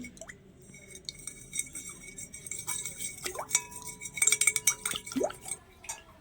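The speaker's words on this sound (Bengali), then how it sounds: "এবারে জলের মধ্যে নিয়ে নিচ্ছি আর একটু ভালো করে মিশিয়ে নেব" Slaked lime being mixed into water in a bowl: sparse, close clinks and light liquid swishing and dripping, growing a little busier toward the end, with no talk.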